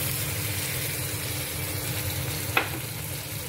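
Masala paste frying in a pan for tandoori chicken gives a steady, moderately loud sizzle throughout, with a brief sharp clink near the end.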